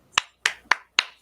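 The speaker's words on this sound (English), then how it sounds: "I'll clap to that." Four sharp hand claps in a steady, slightly uneven rhythm, close and crisp against a quiet background, with nothing else audible.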